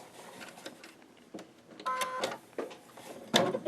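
Sewing machine running a plain straight stitch along a twice-folded fabric hem for a book cover, short mechanical whirring bursts with light clatter between pauses, near and moderately loud.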